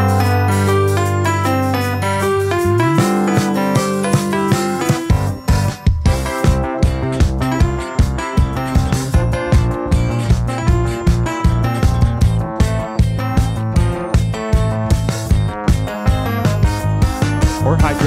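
A funk arrangement of video game stage music plays loud and steady, a dense groove of punchy drums, bass and melodic layers that kicks into a fuller beat after a brief intro.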